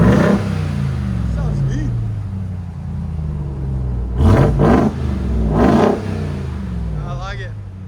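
A supercharged 2021 RAM TRX V8 on its stock exhaust idles with a deep rumble, then revs sharply twice in quick succession before settling back. Someone speaks briefly over the engine.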